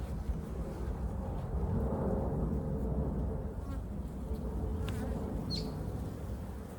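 Honey bees hum steadily around an open top bar hive during a hive check, a dense, continuous buzzing close by with a single bee briefly whining past near the end.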